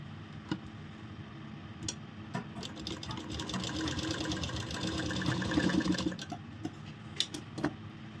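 Sewing machine stitching a seam on a ladies' shirt, a fast rattling hum with steady ticking that swells in the middle and fades toward the end, close by and fairly quiet.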